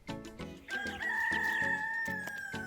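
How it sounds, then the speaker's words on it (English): A rooster crows close by on an island in Taiwan, one long drawn-out call with a rising start, surrounded by short clucks from other fowl. "Rooster, why you gotta start?"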